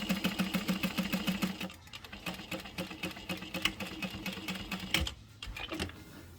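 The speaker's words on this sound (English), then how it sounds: "I'm gonna sew with a 4 stitch length and I'm gonna sew right on that top line" A sewing machine runs a straight line of stitches at a 4 stitch length, stitching steadily and close up, with a brief pause partway through before it carries on.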